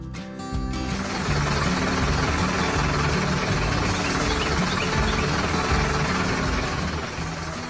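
A farm tractor engine runs steadily, a loud continuous mechanical drone with a rough, buzzing rumble that holds constant after a brief start, with no voices.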